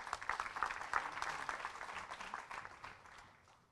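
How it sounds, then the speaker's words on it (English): Audience applause as certificates are handed out at a high school senior awards ceremony, steady dense clapping that peaks early and slowly thins out over a few seconds. "clap for the certificates going out"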